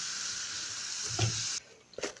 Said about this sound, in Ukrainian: І так смажимо всю нашу картопельку.